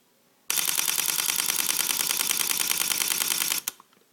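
Sony Alpha a55 camera firing a rapid burst at 10 frames per second, a close, loud machine-gun-like clatter of shutter clicks lasting about three seconds, then stopping abruptly with a couple of faint trailing clicks.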